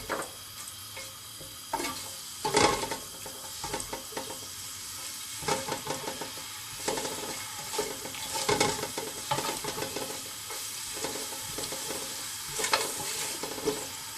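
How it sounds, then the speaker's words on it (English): Vegetables and ginger garlic paste for a restaurant-style vegetable biryani are sautéed in a pan, giving a steady close sizzle broken by intermittent scrapes and knocks of a stirring spoon, with nobody speaking. "Just saute this a bit. Add the ginger garlic paste."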